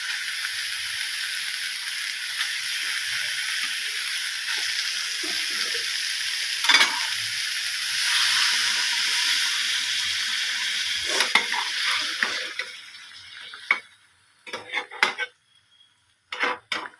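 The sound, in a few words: rohu fish sizzling as it is added to the frying pan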